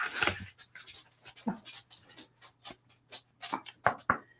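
A dog panting in an office, close by, with quick uneven breathy puffs and a few sharper clicks over a low steady hum.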